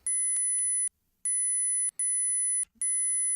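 Electronic beeping from an arcade video game emulated in MAME: four loud, steady high-pitched tones, each lasting under a second, separated by short silences, clean and alone.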